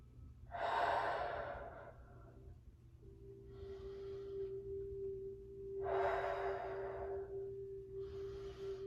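Slow, deep breaths during a stretching exercise class: two long inhale-exhale cycles, each a breathy rush followed by a softer release, close to the microphone over a steady low hum.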